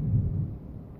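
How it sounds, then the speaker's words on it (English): Distant thunder rumbles low and soft for about a second, a dull continuous roll that fades slightly toward the end, with no voices over it. "Man, can you hear that thunder?"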